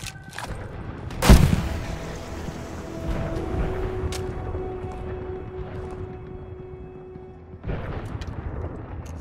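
Heavy machine gun fire in a World War II battle at El Alamein in Call of Duty: Vanguard, opening with one loud blast and then a steady roar of distant gunfire and rumbling combat, with a second burst near the end.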